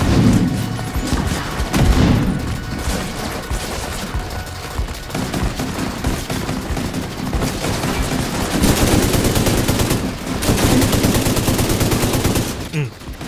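Sustained automatic fire from a light machine gun in The Division 2, with dense rapid bursts and crashing impacts filling the scene, loud and close, with a brief lull near the end and a voice occasionally under the gunfire.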